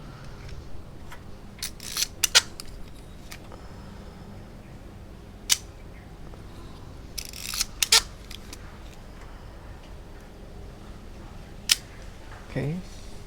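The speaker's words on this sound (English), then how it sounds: "Do the test for the shutter." The shutter of a Zeiss Ikon Contina camera with a Prontor SLK leaf shutter is tested with a few sharp, close mechanical clicks spread over several seconds against a quiet background, with no talking.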